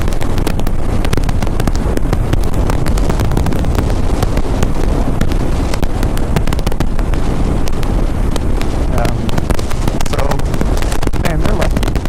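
Constant heavy wind buffeting a helmet microphone on a BMW 1250 GS motorcycle during a road commute, a loud unbroken roar that lasts throughout.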